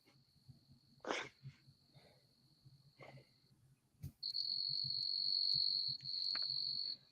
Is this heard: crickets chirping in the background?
yes